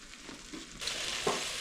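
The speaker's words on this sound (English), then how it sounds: "we're gonna fry this beef bologna first." Beef bologna slices frying in a pan on a wood burning cookstove, starting as a soft hiss that swells into a loud, steady sizzle, close up and without any talk.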